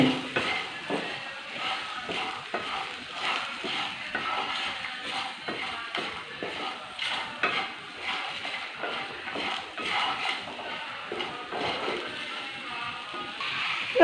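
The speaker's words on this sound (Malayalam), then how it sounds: "ഒരു രണ്ട് മൂന്ന് മിനിറ്റ് ഒന്ന് ഇളക്കി കൊടുത്താൽ" Lentils being stirred in a pan for a Kerala-style tamarind curry, with a steady run of soft scraping and gentle sizzling clatter, moderately close and continuous, with no talking.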